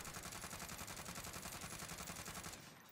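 Rapid automatic gunfire from a SUSAT-scoped weapon in Warzone, a fast, even stream of shots that cuts off near the end.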